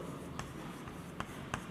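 Chalk or marker on a classroom board during a physics lesson, giving a few faint, close taps and short strokes against a steady room hiss.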